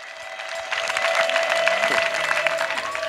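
A church congregation claps in sustained applause that swells after a moment and holds steady, mixed with crowd voices and a ringing tone from the sound system.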